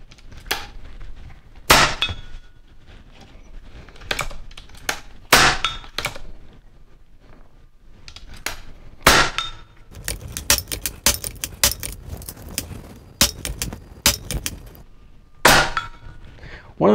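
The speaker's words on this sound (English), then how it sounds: "I'm gonna take about 30 shots through here just to get a baseline" Air rifle shots fired over an Air Chrony chronograph, a series of sharp cracks with metallic clacks of handling and reloading between them, irregularly spaced, some shots in quick succession and others several seconds apart.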